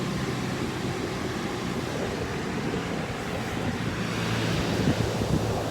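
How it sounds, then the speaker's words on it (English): Ocean surf rolls onto a dog beach, a continuous wash of breaking waves mixed with wind buffeting the microphone, swelling slightly louder toward the end. "I just keep saying I don't know at the beach looking at the waves"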